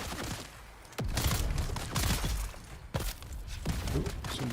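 Gunfire in Dune: Awakening: a few sharp, fairly loud shots crack at irregular intervals over a dense backdrop of battle noise, with no speech.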